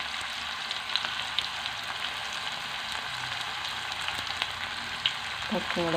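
Tomato and green chili frying in a pan, a steady close sizzle and crackle with occasional stirring clinks, continuous throughout with no voices.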